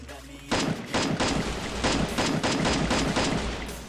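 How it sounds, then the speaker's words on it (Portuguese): Rapid bursts of gunfire in the Free Fire battle royale game, a dense run of repeated shots going on without a break over a steady background. "Foi só um tiro, só descarga."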